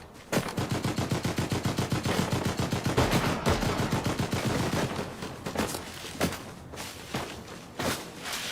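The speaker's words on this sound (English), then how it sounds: "Somebody else is shooting me." Rapid automatic gunfire in Fortnite cracks in a fast steady rhythm aimed at the player, loud and close, then thins into scattered single shots and thuds.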